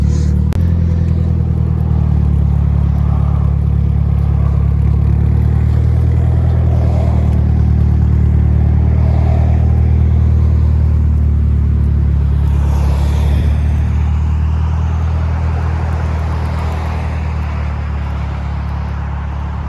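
A car drives along with a loud, steady, close engine rumble and road noise that hold from start to end. Faint voices may be buried under it.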